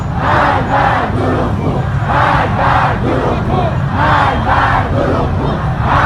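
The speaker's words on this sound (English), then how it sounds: "crowds chanting "Death to the liars."" Iranian protesters in the street chant in rhythmic unison, a loud massed crowd of voices rising and falling in repeated phrases across the whole stretch.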